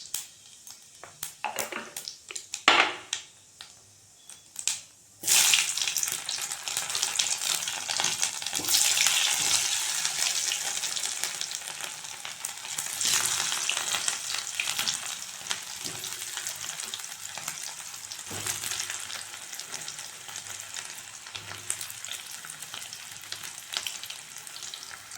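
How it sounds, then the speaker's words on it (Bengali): Cumin seeds tempering in hot soybean oil crackle and sizzle, a steady close frying hiss with stirring clinks that starts after a few quiet seconds and continues to the end. "একটু জিরে ফোড়ন দিলাম।"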